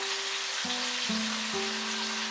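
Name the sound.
diced potatoes added to hot oil, frying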